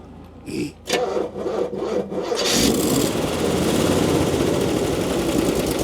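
A 1964 Chevrolet Impala wagon engine cranks over with a few brief bursts, then catches and settles into a loud, steady, rough idle close by.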